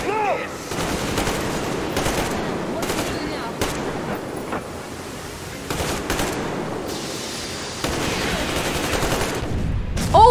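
Gunfire in the video game Metro Exodus, with repeated rapid bursts and single shots spread across the scene, loud and close, while voices talk over the shooting.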